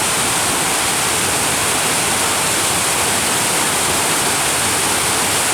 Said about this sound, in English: the water's coming down off this rock and then whirlpooling down there